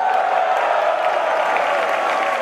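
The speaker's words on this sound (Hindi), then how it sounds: "तालियां अपने लिए बजाओ, अपनी डायमंडशिप के लिए।" An audience at a motivational stage event claps in a steady, dense wash of applause that holds for the whole stretch with no break.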